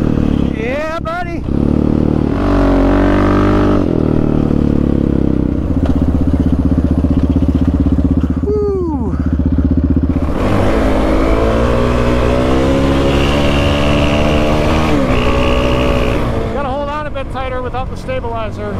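Kawasaki KFX450R or Yamaha Raptor 700 quad engine revving loudly and continuously up close while riding, its pitch rising and falling with the throttle, with a rider talking over it.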